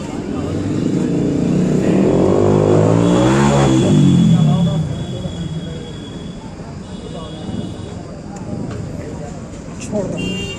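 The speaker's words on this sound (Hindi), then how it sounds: "देख सकते हैं बाइक का सेल्फ काफ़ी आवाज़ कर रहा था सेल्फ लेने पर।" Motorcycle electric self-starter with worn carbon brushes makes a loud whirring whine that swells and falls over a few seconds, then gives way to quieter engine and background noise, with voices nearby.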